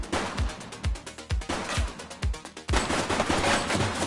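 Gunfire from a shooting suspect in The Precinct, a rapid run of loud, close shots in an uneven rhythm that ends in a dense burst of fire.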